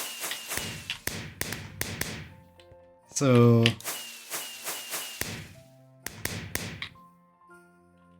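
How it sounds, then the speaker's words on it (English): Video game fireworks rockets go off in a string of sharp bangs and thumps, with one longer crackling burst in the middle and a speaker talking between explosions. "Yay! Fireworks!"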